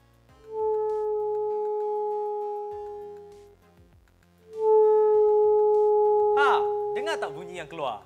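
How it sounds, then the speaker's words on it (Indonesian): Two heated metal pipes of different sizes, one larger and longer, sing as Rijke tubes: a steady humming tone holds for about three seconds, stops, then a second sustained tone returns with shifting higher overtones toward the end. "Mari kita lihat bagaimana beza bunyi yang dihasilkan kalau kita guna saiz pipe yang berbeza"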